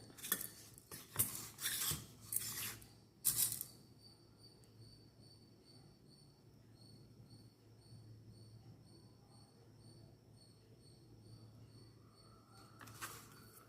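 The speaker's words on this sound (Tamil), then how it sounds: "ரெண்டாவது மணியில் ரைட் சைடு ஒயரை குறுக்க வெட்டி எடுக்கணும்" Scissors snip beading wire for a beaded bag keychain, giving a few sharp close clicks early on, then a quiet stretch with faint high insect-like chirping in the background.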